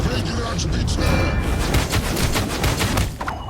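Rapid gunfire from a card in the digital card game Gwent, a dense, loud fusillade of overlapping shots running continuously with someone speaking over it.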